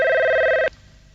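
A steady electronic telephone ring sounds loudly for a moment and then abruptly stops, leaving quiet.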